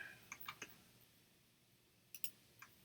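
Computer mouse clicking, a few faint, sharp clicks in two small clusters with quiet gaps between, close by and isolated.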